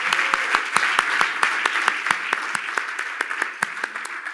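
An audience applauds during a fireside chat on entrepreneurship, individual sharp claps standing out distinctly over a light patter of hands, moderately loud and steady throughout.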